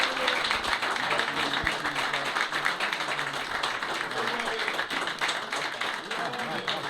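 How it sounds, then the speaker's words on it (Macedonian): Sustained applause and clapping from a crowd at a veterans' gathering of FK Teteks and FK Ljuboten football clubs in Tetovo, honoring Spirko Marinkovski, steady and dense throughout with voices mixed in. "Уште еден аплауз за Спирко Маринковски"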